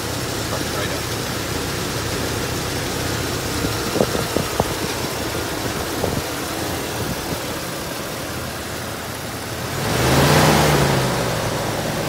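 A 1988 Chrysler Fifth Avenue's 318 V8 idling smoothly through a single exhaust with a steady low rumble, plus a brief swell of noise near the end, under quiet voices.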